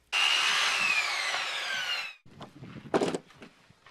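Cheap Harbor Freight circular saw ripping through a board along a clamped straightedge guide: a loud, steady whine for about two seconds as the blade winds down, then a few handling knocks and clatter.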